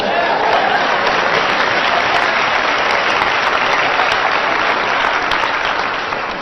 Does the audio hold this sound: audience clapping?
yes